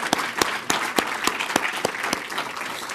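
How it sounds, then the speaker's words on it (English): Audience applause after a seminar lecture on the current Assyrian genocide, a dense steady patter of many hands clapping with sharp individual claps standing out, sustained and fairly near throughout. "Please, another round of applause."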